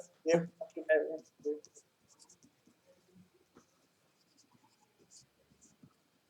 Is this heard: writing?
yes